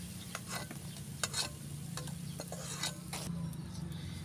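Cabbage pakoras sizzle in a wok over a wood-fired stove with a steady hiss, punctuated by scattered crackles and pops, fairly quiet and without talk.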